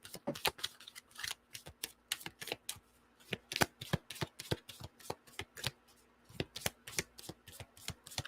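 A deck of Moonology Oracle cards is shuffled close up in quick, crisp riffling bursts that repeat rhythmically throughout, fairly quiet overall.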